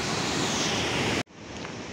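Two mountain streams in the Manaslu region merge into the Bhalubhan Khola and rush on, a loud, steady roar of water that cuts out briefly, then resumes slightly quieter.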